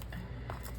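Scissors snip through glossy magazine paper in a few quick, quiet cuts close by, with a soft rustle of paper between them.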